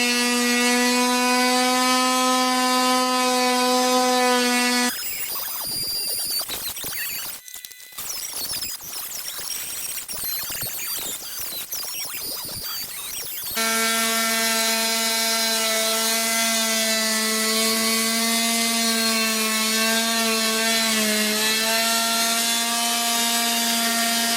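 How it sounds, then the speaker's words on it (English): A Dremel Multi-Max MM35 oscillating tool cuts into a ceiling with a loud, steady high-pitched buzz. The pitch shifts to a rougher grinding rasp while the blade bites, then returns to the steady whine. "this is where I will actually be making cuts with the new Dremel MX35"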